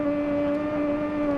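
A supersport motorcycle engine idles at low revs in the racing game TT Isle of Man: Ride on the Edge 3, a steady, even droning hum with a strong low tone and no changes in pitch.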